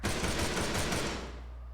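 Machine gun fire in the Arma 3 video game rattles in a rapid, dense burst of shots that fades as it ends.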